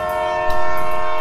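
A train in GTA 5 blasts a loud, steady horn as it passes close by, with a low rumble of rolling wagons underneath.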